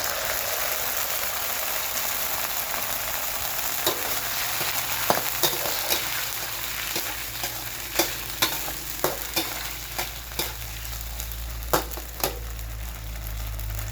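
Canned fish stir-fried with basil in a pan sizzles steadily and close by, while sharp scrapes and taps of a spatula on the pan recur through the second half.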